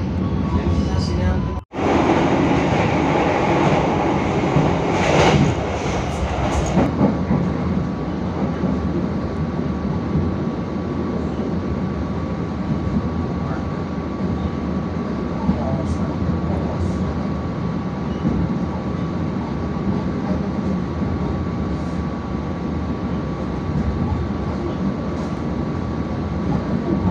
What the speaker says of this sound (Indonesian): kereta api Jakarta Tingkir akan segera tiba di stasiun Lempuyangan Yogyakarta.